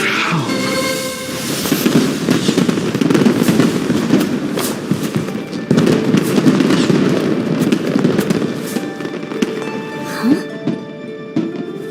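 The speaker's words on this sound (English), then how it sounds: "Fireworks show?" A fireworks show in the video game Genshin Impact: a dense, continuous barrage of loud crackling bursts and booms, with musical tones ringing faintly beneath.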